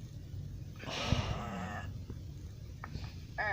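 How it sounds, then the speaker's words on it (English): Sheep bleats from a Muppet Babies–style Nick Jr. cartoon bumper: one drawn-out wavering bleat, then short clipped bleats, heard up close over a steady background hiss. "This is how the sheep says goodbye."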